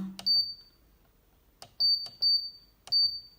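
Short electronic beeps from a Justice ARK-810 refractive keratometer, a few bursts of repeated high tones with soft clicks between them, fairly close in a quiet room.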